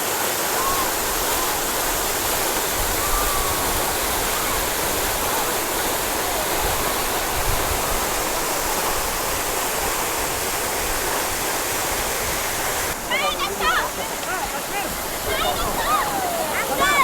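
Mangampeta waterfall near Banaganepalle roars as a steady, loud rush of falling water throughout, with faint birdsong rising near the end.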